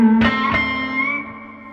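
An electric guitar plays through a handwired 1964 custom Princeton Reverb amp set to a heavy, dripping reverb: a few plucked notes ring out clean and hang in a long, smoothly fading wash of echo.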